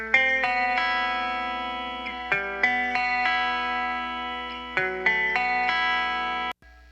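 A guitar arpeggio is played through a Boss DD5 delay and split into clean Fender and Behringer amps. Repeated picked notes ring out with shimmering echoes over several bars, then cut off abruptly at the end.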